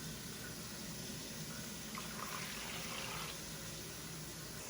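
Water runs continuously into a filling Anova sous vide tub, a steady broad rush with no pauses.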